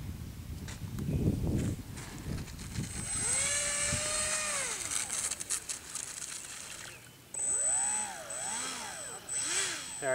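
A Polaris seaplane comes in to land, its engine whining loud and close as the pitch swoops up and down, with rough rumbling noise at the start.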